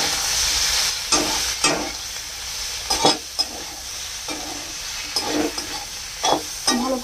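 Potatoes sizzle steadily in a hot pan with turmeric while a utensil stirs them, scraping in repeated short strokes over a continuous frying hiss, close and alone without speech.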